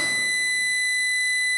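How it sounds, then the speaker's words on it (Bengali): A microwave oven beeps in a domestic kitchen, a steady electronic tone held throughout against a quiet background, used as a sound effect in a horror audio drama. "মাইক্রোওভেনের আওয়াজে চমকে উঠল সুরঞ্জনা।"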